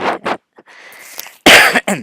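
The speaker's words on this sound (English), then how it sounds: "sorry for the gross noises, and the coughs and the sneezes" Several harsh, close coughs come in bursts with a throat-clearing rasp between them, loud and abrupt against near silence.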